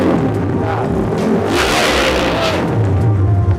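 A modified 250cc Supra motorcycle engine roars loud and close, its revs climbing and swelling through the middle before settling into a steady throaty rumble.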